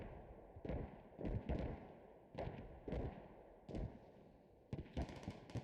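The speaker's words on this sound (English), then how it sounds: "You can hear both sides trading those mortars and trading those light armored vehicle shots." Distant mortar blasts and light armored vehicle cannon shots in the video game Squad, about eight separate heavy thumps and booms spaced irregularly over a steady low hum, some doubled in quick pairs.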